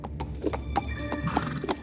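An anxious horse on a quiet path, with steady clip-clopping hooves and sharp whinnying neighs heard clearly on their own.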